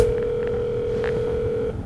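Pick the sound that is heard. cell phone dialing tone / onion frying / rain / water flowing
cell phone dialing tone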